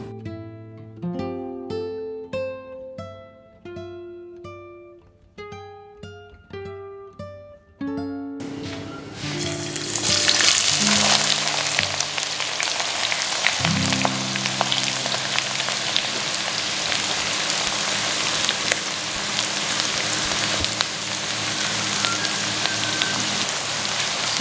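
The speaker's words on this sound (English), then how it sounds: "So I'm just going to allow it to fry until it's fragrant." Onions frying in a pan for egg sauce give a loud, dense, continuous sizzle that starts abruptly partway through, preceded by tonal clinks and knocks, with no talking over it.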